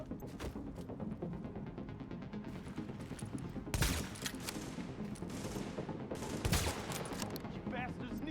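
Sustained automatic gunfire from a firefight in the video game The Division, set in New York City, with dense rattling bursts and two louder volleys standing out, while voices call out faintly underneath.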